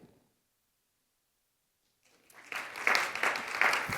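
A conference audience at the NWES 2026 event show breaks into applause for the sponsors after near silence, the clapping swelling quickly and staying steady and fairly close.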